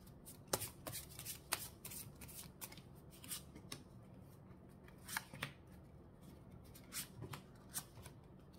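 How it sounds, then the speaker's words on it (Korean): Lenormand cards shuffled during a tarot reading, soft close riffling and flicking in irregular bursts over a quiet room hum, fairly faint and with no talking. "조언을 레노모드 카드로 뽑아드릴게요"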